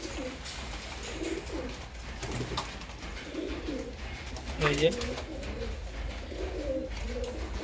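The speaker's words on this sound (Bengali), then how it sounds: "এগুলো আমার মাদি কবুতর।" Female pigeons coo softly in a loft, their low murmuring repeated through the scene with some wing and body movement, while someone speaks briefly nearby.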